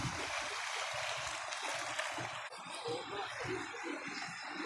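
Stream water flowing down from farm fields, a steady close rushing and gurgling wash that runs continuously without any voices.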